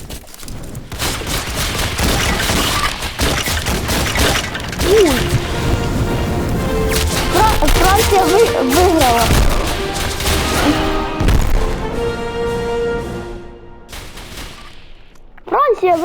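Gunfire in a Roblox war game: sustained fusillades and rapid automatic bursts with booms and mechanical clanks, loud and dense for most of the stretch before cutting off near the end.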